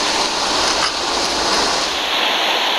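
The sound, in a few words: fast-flowing Coker Creek water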